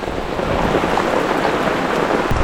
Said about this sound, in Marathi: पाऊस मजबूत आला एकदम जोरदार